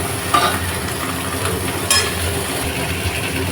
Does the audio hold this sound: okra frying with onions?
yes